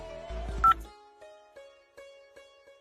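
A series of short electronic dialing beeps, about five evenly spaced tones after a brief burst of button clicks, close and clear.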